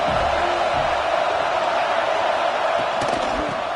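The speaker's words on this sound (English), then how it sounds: "This crowd ready to make its presence known." A loud stadium crowd roars steadily at a college football game between USC and Virginia in a video game, a dense, unbroken wash of cheering from start to finish.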